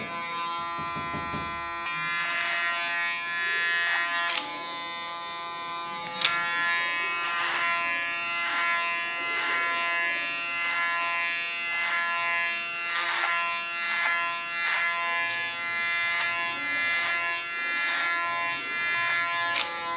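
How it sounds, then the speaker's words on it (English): An electric hair clipper buzzes continuously and close up during a haircut, its steady hum shifting slightly as it moves along the hairline, with no talk over it. "On the contour line, I use my clipper as a comb."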